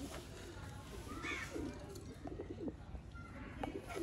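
Breeder pigeons in a loft cooing softly in repeated low murmuring calls, faint and somewhat distant over background noise, with someone talking nearby.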